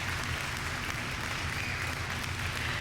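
Steady, dense applause fills the whole short stretch at an even level, with no voices on top.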